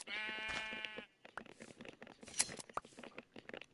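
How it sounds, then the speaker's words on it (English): Sheep in Minecraft bleat in a loud, wavering burst at the start, followed by softer scattered game sounds and shorter blips. "Another 2 sheep."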